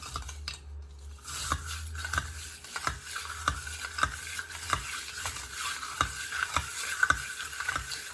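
A spoon stirs a mint julep holding about three ounces of liquor, with crushed mint in the bottom, clinking and scraping against the glass in quick regular strokes, close and fairly quiet.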